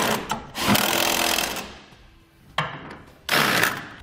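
A power socket wrench tightens bolts on a B and W underbed gooseneck trailer hitch in a 2019 Chevrolet, with loud whirring bursts, one long run that winds down, then two shorter spins, close and without speech.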